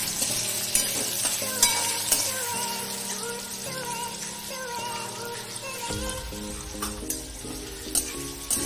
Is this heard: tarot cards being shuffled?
no